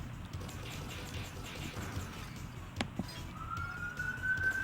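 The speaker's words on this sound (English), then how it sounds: "that's like an actual like police siren" A police car siren sounds outdoors, rising into a steady wail near the end of a busy background, with a sharp click partway through.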